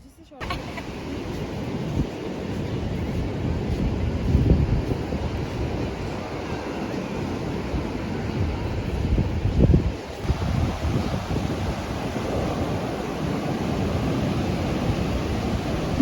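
Waves roll onto a big beach in Bali in a continuous wash of surf, mixed with gusty wind buffeting the microphone, the roar swelling a little at moments.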